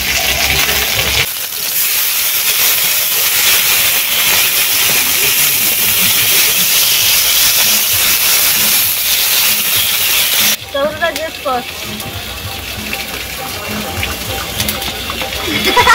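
Onions tossed into hot oil in a village kitchen, frying with a steady loud hiss and sizzle that shifts to a bubblier crackle partway through, while people talk nearby.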